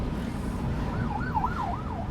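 An ambulance siren wails in rising and falling sweeps from a distance, heard over the steady rumble of a car driving on a road in Padang, Indonesia.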